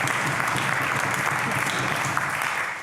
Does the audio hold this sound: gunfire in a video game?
no